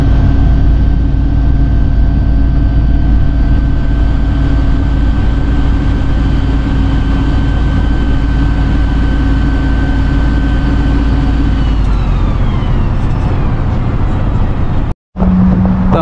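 A city bus in winter Novosibirsk, Russia, rumbles along with a loud, low engine drone and a steady whine. Near the end the tone shifts as it slows, then there is a short break.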